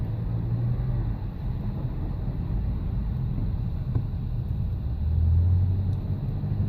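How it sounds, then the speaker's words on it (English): Car traffic in downtown Brooklyn produces a steady low rumble heard from inside a vehicle, with a slightly louder swell of engine drone near the end. "we're sitting here in downtown Brooklyn traffic"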